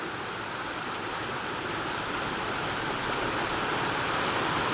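Small creek near a waterfall in Ithaca, New York, giving a steady broadband rush of flowing water, close and even throughout with no voices.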